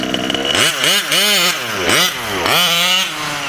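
A Taylor 35 small model engine runs loud and steady nearby, its pitch rising and falling in repeated revving surges throughout.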